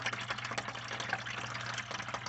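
Water pouring from a drain fitting into a bucket, a faint steady trickle and splash that continues evenly without interruption.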